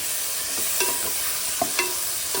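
Tomatoes and green chilies sizzle steadily in a pan for vegetable biryani while a utensil stirs, with a few soft scraping taps over the constant frying hiss.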